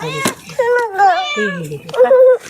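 A cat meows several times in a row, close by, with harmonic wavering cries spread over a couple of seconds at a home, with no talk over them.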